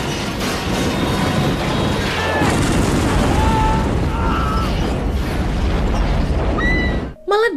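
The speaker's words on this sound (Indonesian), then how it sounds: "Ledakannya gede banget sampai ngerusak tempat penelitian itu" A helicopter crashes into a tower and explodes in the film Deep Blue Sea, wrecking the research facility: a loud, sustained booming roar with rumbling debris that fills several seconds before cutting off abruptly.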